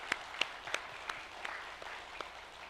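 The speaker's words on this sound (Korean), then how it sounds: "우리 찬양하신 분들께 우리 격려 박수" Sparse, scattered clapping from a church congregation at a year-end early-morning prayer service honoring choir singers, a few distinct claps spaced out roughly every third of a second, fairly faint.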